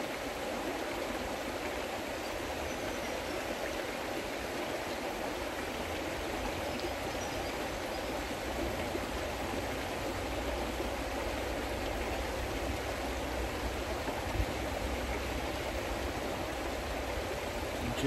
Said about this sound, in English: paying attention to the sound of the river and its quality